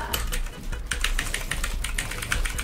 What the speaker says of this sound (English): This keyboard is just, it's clicky